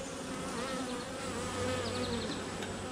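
Honey bees buzz steadily around an open hive with brood and wild, wonky comb in July, a dense close hum of many wings with no voices.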